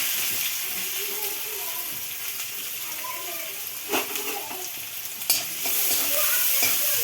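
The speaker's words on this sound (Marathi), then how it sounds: "आता ह्याच्यामध्ये घालायचा आहे कांदा" Onion frying in a pan with bay leaf and cloves for paneer bhurji, giving a continuous close sizzle and hiss, with stirring and a couple of sharp utensil clinks.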